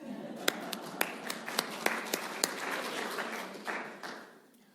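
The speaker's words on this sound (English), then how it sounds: "clapping is appreciated" A church congregation claps along at a standing service, sharp individual claps landing in a steady rhythm over a soft, reverberant wash of sound, fading out near the end.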